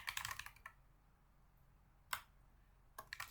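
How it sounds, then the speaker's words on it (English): Quick keystrokes on a computer keyboard, a short burst of close clicks, a pause, then a single sharp press and a few more taps, quiet with no talking. "you can press Windows plus R and type in"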